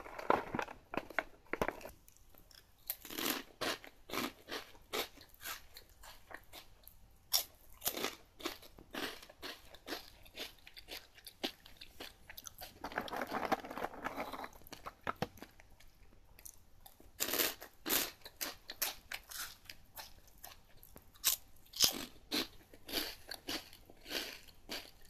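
Someone bites into and chews a spicy mentaiko mayo flavored snack: loud close crunches and crackles come in irregular bursts, separated by quieter stretches of chewing, with faint wrapper crinkling and no talking.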